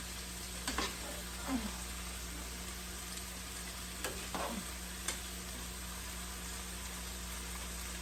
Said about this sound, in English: Let's give our soup a stir back here.